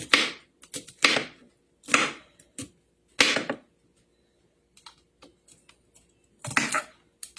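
A knife chops rinsed garlic cloves on a board, a handful of crisp, separate knocks with short pauses between them, followed by a few faint light taps, close and clear with no talking.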